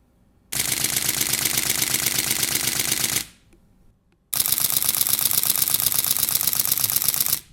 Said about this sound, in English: Listen to this shutter and how fast the D2H shoots